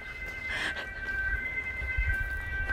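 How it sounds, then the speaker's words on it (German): A steady high siren tone holds throughout, mid-distance, over a low rumble of outdoor background noise in Bad Windsheim, Germany. "Jetzt hört die Sirene."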